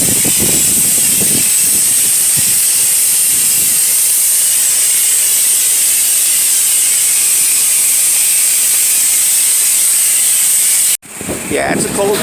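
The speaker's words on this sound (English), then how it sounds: "we got Anthony going ahead and soaping down the side" Pressure washer spraying soap onto a Lannon stone wall outdoors on a cold day in Wisconsin, a steady loud hissing spray running continuously before cutting off abruptly near the end, followed by brief rustling noise.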